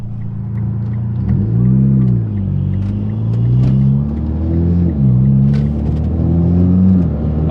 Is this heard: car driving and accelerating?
yes